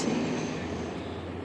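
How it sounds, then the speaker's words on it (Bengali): A train rumbles past close by, a loud low roar that fades slightly over a short stretch, with no one talking. "ট্রেন যাচ্ছে"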